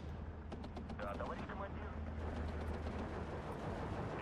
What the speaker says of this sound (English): That mortar's going to do a lot of damage.